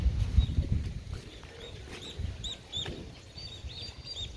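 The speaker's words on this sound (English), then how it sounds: "This is the bird sanctuary." Birds at a sanctuary in Mindanao, Philippines, chirp and whistle in short repeated calls over a low rumbling background of wind or movement, moderately near and fairly quiet, with no talking.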